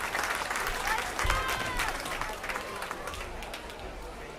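Applause from spectators at a youth swine show, moderate clapping spread across a crowd in an open arena, with voices and some shuffling and movement mixed beneath.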